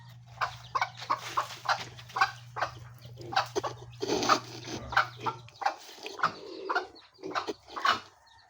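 Chickens at a chicken farm clucking and calling in a steady rhythm of short bursts, fairly close, with a low hum underneath for the first few seconds.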